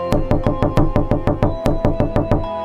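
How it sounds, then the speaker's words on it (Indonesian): Twelve sharp, evenly spaced knocks in a steady rhythm, close and fairly loud, each with a hollow resonant ring. "Ada suara ketukan"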